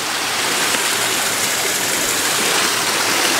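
A mountain stream runs beside a mossy hiking trail, a close, steady rush of flowing water with no break and no voices.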